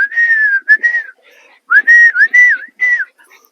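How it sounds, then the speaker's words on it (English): A whistle calling dogs sounds a series of short, rising and falling tones in bursts, loud and close, with brief pauses between phrases. "I use a whistle"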